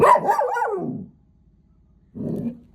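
A dog gives a whiny bark, falls silent for about a second, then lets out a shorter low growl-bark, close to the listener.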